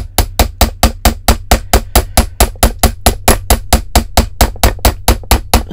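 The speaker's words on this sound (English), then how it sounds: "Okay, just hammering away here." A hammer strikes copper wire on a bench block while earrings are made, landing loud, close, steady blows in a fast, even rhythm of about four per second, with no talking.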